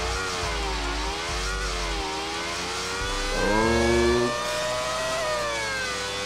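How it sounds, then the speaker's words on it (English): An F1 race car engine in the GTA 5 video game revs up slowly, a loud, steady, whining engine tone whose pitch climbs and dips and briefly surges louder, with no talk over it. "I wonder why I rev up so slow."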